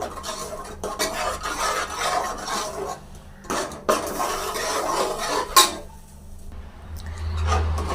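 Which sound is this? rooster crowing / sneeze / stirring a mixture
stirring a mixture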